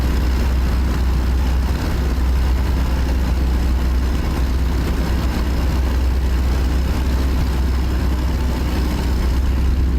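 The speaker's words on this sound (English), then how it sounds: "For people who like to hear the sound of the engine." A heavy truck engine idles in a truck-driving video game on a convoy run out of Twin Falls, Idaho, giving a steady, loud low rumble that runs unbroken for the whole stretch with no talking.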